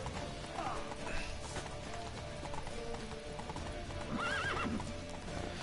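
Steady horse hooves clip-clop at a gallop in the video game The Witcher 3, with the horse whinnying twice, once briefly early on and again louder near the end.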